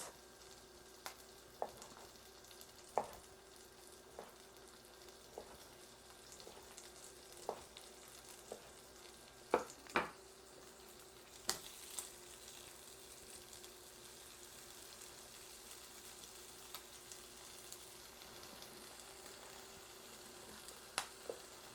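Leftover meat pieces fry in a pan, rendering fat, with a steady quiet sizzle broken by scattered louder pops and crackles and a few stirring scrapes, close and fairly soft.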